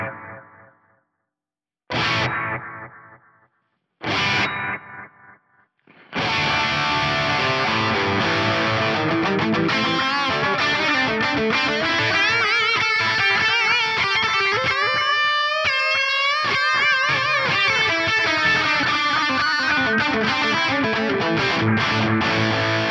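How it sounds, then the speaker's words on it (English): A distorted guitar-like synth line passes through a mono delay whose echo pan is held centered. It opens with a few stop-start phrases, then plays as a dense, steady, loud wash with repeating echoes and no talk. "my delay LFO is multiplying this echo pan, which is at 0. So it's still gonna maintain a mono delay"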